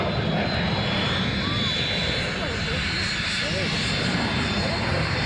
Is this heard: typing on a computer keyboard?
no